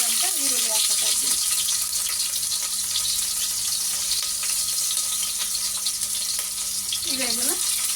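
Chopped onions drop into hot oil with popping mustard seeds, giving a steady close sizzle and frying hiss throughout, with a few brief clinks near the start and end.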